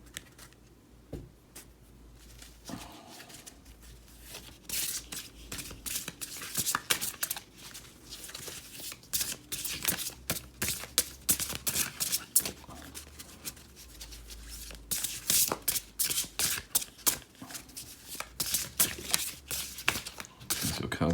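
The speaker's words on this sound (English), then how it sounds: "Just bear with me, these are hard to shuffle." A stiff Lunar Nomad Oracle card deck is shuffled by hand at close range, with repeated riffling bursts and soft slaps between quieter pauses, going on for about twenty seconds.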